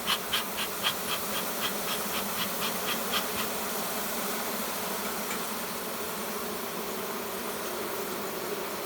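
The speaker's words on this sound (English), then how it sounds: "Got to get the bees out of the way so they don't get mad at me." Honey bees swarm around a brood comb in a dense, continuous buzz close by, with a run of soft rhythmic taps in the first few seconds and no voices.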